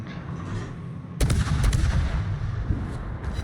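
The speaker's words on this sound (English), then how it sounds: "I wish Asashio's guns loaded just a little faster, but at least they hurt when they hit something." Heavy naval guns fire in a warship battle game involving the destroyer Asashio, with a sudden loud boom and rumbling follow-up blasts after a quieter lead-in.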